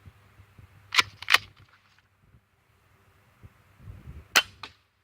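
An airgun fires a BB twice in quick succession, each shot a sharp, near snap, followed moments later by a third crisp shot after a pause, with faint handling noise between.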